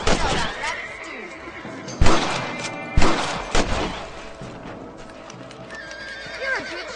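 Horses in the Western game Red Dead Redemption, with a loud whinny and hooves clip-clopping at a gallop, plus a few sharp gunshot-like bangs. A voice speaks faintly under it.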